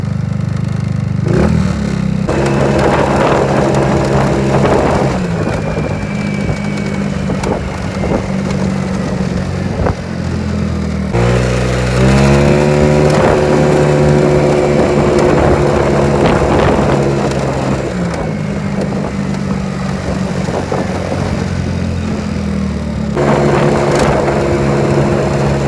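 A Taotao motorbike engine running loud and close, with a steady buzzing drone that rises and falls in pitch as it revs and accelerates, plus some mechanical clatter throughout.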